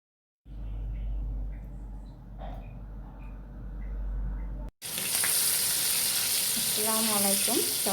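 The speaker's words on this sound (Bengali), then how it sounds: "অনেক সুন্দর পরোটা ভাজছি।" Paratha fries in a pan with a soft, steady sizzle that cuts abruptly to a louder, brighter hiss, and a voice speaks briefly over it near the end.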